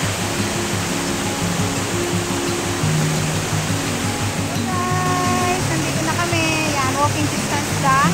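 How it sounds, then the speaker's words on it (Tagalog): A strong waterfall on Tso Kung Tam stream in Tsuen Wan, swollen after a typhoon, roars as a loud steady wash of noise, with people talking over it and birds chirping faintly near the end. "Medyo malakas ngayon ang falls dahil natatapos lang po ng bagyo yung Typhoon 8."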